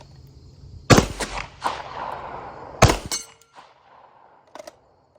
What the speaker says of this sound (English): you never know when you might need to make a shot that distance with a handgun